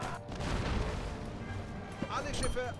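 Cannon towers firing in the strategy game Anno 1701, booming game shots layered over steady game sound and music, with a sharp hit near the two-second mark.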